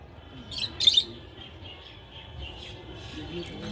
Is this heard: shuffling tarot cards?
no